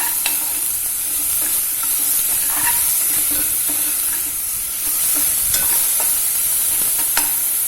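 Onions cooking in a pan for Koli lal dal, a constant close sizzle with frequent spoon stirs and light scraping taps throughout.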